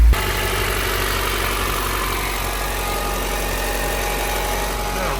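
A freshly started car engine idles steadily while warming up, a close, even low rumble with constant vibration that carries unchanged throughout.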